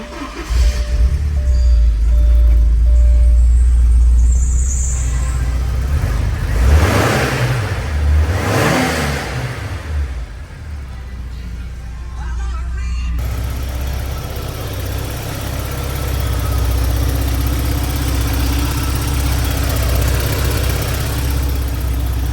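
A 1986 Porsche 944 engine cranks and catches, revs up and down in a few sharp blips with strong low-end rumble, then settles into a steady close idle.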